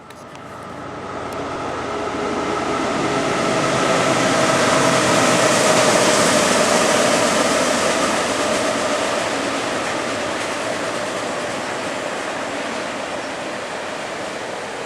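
A train passing at Silver Creek on the Lake Erie shore: a broad rumble swells to a loud peak midway through, then slowly fades over about fifteen seconds, with no voices.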